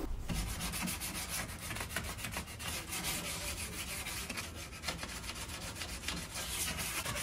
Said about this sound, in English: I'm just scuff sanding it with 220 grit sandpaper